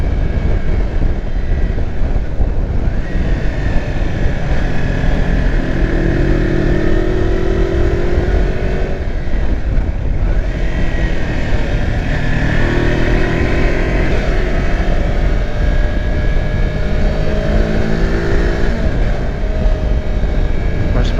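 A Kawasaki Versys X 300 motorcycle riding along a twisty country road in Victoria, Australia, gives a steady, droning engine note under rushing wind, dipping briefly a couple of times as the revs change.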